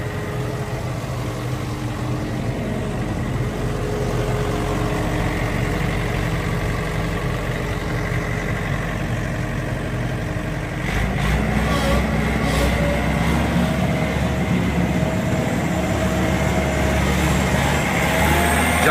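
A John Deere 1600 Turbo wing mower's diesel engine runs steadily at idle, a loud continuous rumble close by that deepens and grows slightly heavier partway through.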